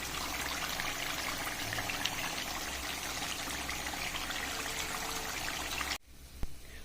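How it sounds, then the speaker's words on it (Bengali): Water pours steadily into a pot of duck curry to make the gravy, a continuous splashing stream lasting about six seconds before it stops abruptly, followed by a brief clunk. "মাংসটা ভালোভাবে কষানো হয়ে গেলে আমি ঝোলের জন্য পানি দিয়ে দেব।"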